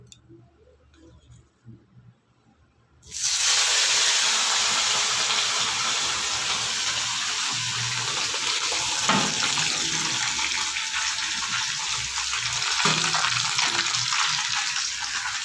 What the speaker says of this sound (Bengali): এই যে মাছ আছে বাটা মাছ আর মৌরলা মাছ আছে একটুখানি মাছগুলো ভেজে নি চলো